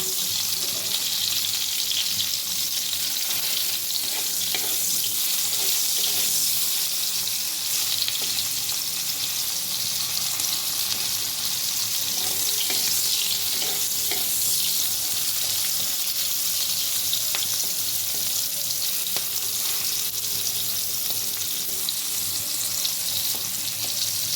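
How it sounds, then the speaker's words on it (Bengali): Bitter gourd fries in a pan over raised gas heat, producing a continuous, fairly loud sizzle and crackle with occasional faint stirring clicks, no voices. "গ্যাসটা আমি একটু বাড়িয়ে দেবো একটু ভাজার জন্য।"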